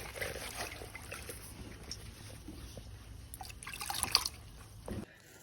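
Leaves for a taro curry are washed in water, with faint dripping, trickling and splashing close by, a brief louder slosh near the end, and no talking.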